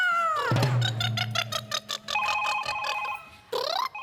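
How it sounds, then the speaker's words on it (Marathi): A mobile phone ringtone goes off on a comedy stage show, playing a bright, repeating electronic melody of pulsing tones that are loud and close, with no talking over it. "तुमचा फोन वाजतोय"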